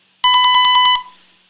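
A Lego EV3 robot running an ultrasonic sensor program gives a loud electronic tone that pulses rapidly for just under a second, then cuts off and leaves a faint fading ring.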